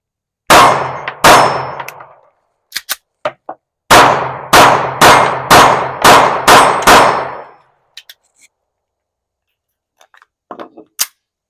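Pistol rounds of old 115 grain brass ammunition ringing off steel targets at a shooting range: two sharp clanging shots, a few quick ticks, then a rapid string of six loud metallic pings, with faint clinks afterward.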